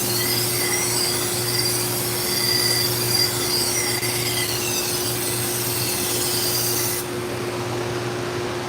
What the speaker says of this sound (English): Sharpening knives for a client.